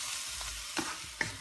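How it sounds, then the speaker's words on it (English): Tomato sautéing in a pan, a steady close sizzle of frying with a couple of soft stirring clinks, no talk. "We're gonna saute the tomato so it will release its juice"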